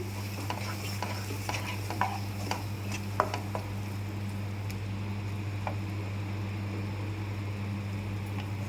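A purée for mutton liver fry is stirred in a pan over low heat: a soft steady sizzle under a constant low hum, with scattered spoon scrapes and light clinks against the pan.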